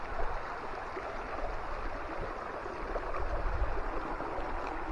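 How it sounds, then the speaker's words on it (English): A creek flows past rocks among trees, a constant close rushing and gurgling wash that stays even throughout with no voices. "And got the creek coming down."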